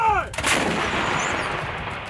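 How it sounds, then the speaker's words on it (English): A single field artillery gun fires during Table 6 qualification, one loud, close boom with a sharp crack followed by a long rolling echo that slowly fades. "The current training right now is the Table 6 artillery qualifications for these sections."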